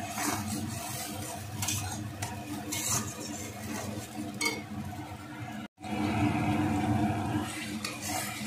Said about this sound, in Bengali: বেশ ভালো করে মশলাটা কষিয়ে নেব